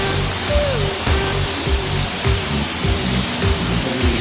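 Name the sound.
shower running water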